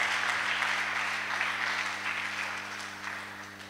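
A church congregation applauds in a sustained, dense wash of clapping that slowly fades, with a low steady hum underneath and almost no talk.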